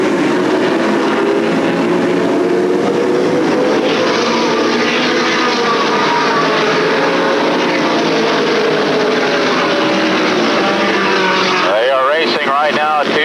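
Limited late model race cars roaring around the New Smyrna Speedway oval at the 1988 Speedweeks, a loud sustained pack of engines with shifting pitch as cars pass, under heavy crowd or announcer noise.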